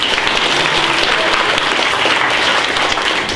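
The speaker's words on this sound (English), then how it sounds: "Okay, can we have a round of applause for them too?" A crowd claps for a team at a junior hackathon show-and-tell, dense continuous applause that stays loud and steady throughout with no voices over it.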